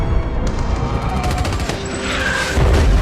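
Mortar shells pound a battlefield in an action film, a dense, loud barrage of blasts and gunfire with crashing impacts and a deep rumble swelling toward the end.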